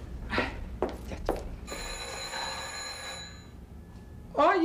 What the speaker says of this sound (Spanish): ¡Ay, el teléfono!